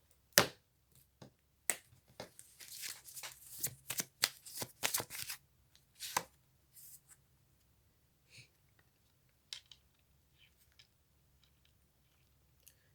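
Oracle cards shuffled by hand in a quiet room: a fast cluster of crisp riffling flutters that thins into scattered soft taps and slides, close and fairly quiet, with no voices.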